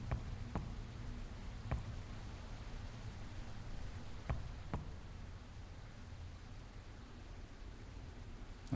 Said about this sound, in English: Oh, that's why I can hear the rain.